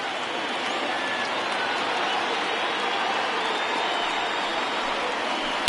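A large stadium crowd of over 28,000 in MLB The Show 20 roars and cheers steadily at a Blue Jays vs Twins baseball game, a dense, sustained wall of noise with a brief sharp peak at the very end.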